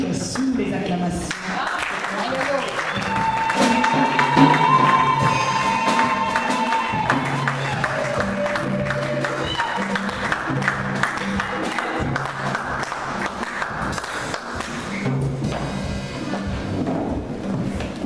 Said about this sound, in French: Nous allons recevoir le pasteur Patrick sous les acclamations.